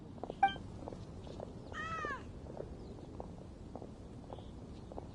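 A cat named Paisley gives a single clear, rising-then-falling meow in the middle of a quiet scene from the Genshin Impact video game, with a short chirp just before it and faint low rumbling underneath.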